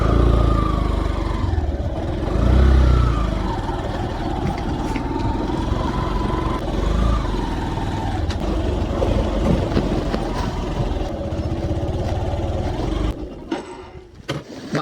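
A small motorcycle engine passing along a village road in Caibiran, Biliran, Philippines, a steady loud drone that swells and fades, with no talk over it.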